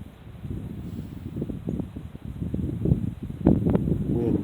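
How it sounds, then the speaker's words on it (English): Gusty outdoor wind at a shooting range buffets the microphone as a low, rumbling rush with rustling, and it grows stronger toward the end, with no talking. "Wind gusted up on me."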